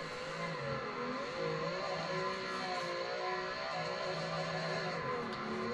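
A car engine revving hard while drifting in a sim racing game on a Fanatec rig, with sustained whining revs rising and falling steadily at moderate loudness.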